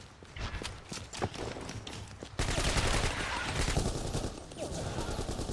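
Gunfire from the video game BlackFire sounds as rapid repeated shots, first in choppy bursts and then as a dense, sustained fusillade, with some voice mixed in.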